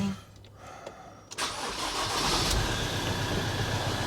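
A 2013 Ford Transit Custom 2.2 diesel van engine, freshly serviced with new oil, cranks and catches, then settles into a steady, close idle that holds to the end.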